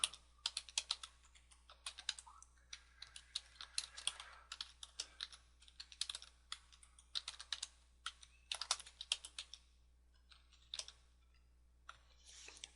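Someone types on a computer keyboard, a quiet, close run of rapid key clicks in irregular bursts with short pauses and a few louder keystrokes.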